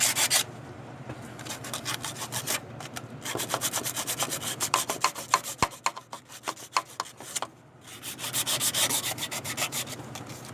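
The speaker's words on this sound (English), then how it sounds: "Use a scraper that it's softer than the metal you're scraping." A hand scraper works caked buildup off the metal of a 2004 Toyota Sienna 3.3 engine during a head gasket job. The dry, rasping strokes scratch on close by in steady rhythmic bursts, with brief pauses between passes.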